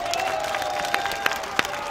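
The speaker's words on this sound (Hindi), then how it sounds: "क्या एक बार जोरदार तालियों से नितिन जी का स्वागत करेंगे?" A large political rally crowd welcoming Nitin Gadkari breaks into steady dense clapping, distant and continuous, with a few louder claps standing out over a faint sustained tone.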